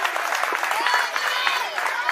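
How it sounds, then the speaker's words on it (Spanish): Audience clapping at a club talent event, a brief, dense burst of applause with a voice talking over it throughout. "Un fuerte aplauso para Alex"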